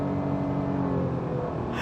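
Suzuki Swift 2025 with a 1.2 litre 82 horsepower engine running on the road in the UAE, a steady, full engine drone heard from inside without any pause.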